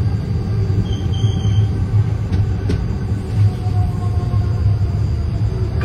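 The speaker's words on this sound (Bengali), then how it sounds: "ট্রেন ঢুকলো পশ্চিম বর্ধমানের এই অন্ডালে" The Sealdah-Asansol Intercity Express pulling into Andal junction in West Bardhaman, a steady low rumble of wheels and carriages with faint high squeals over it.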